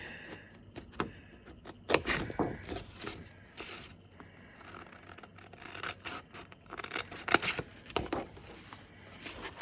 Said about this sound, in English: I'm gonna cut this piece out so I can have a bit of a play with it as I go